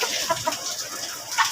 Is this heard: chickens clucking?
yes